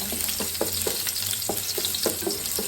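Garlic and onion sauté in a pan with a steady sizzle, broken by a rhythmic run of quick spatula scrapes and taps at close range. No voices are heard.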